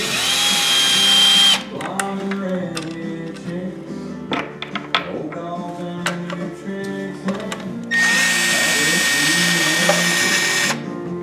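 A power drill whirs in short high bursts at the start and near the end, taking out 8mm bolts from the plastic cover on a Yamaha Kodiak 450 ATV, with clicks and clatter of handling in between.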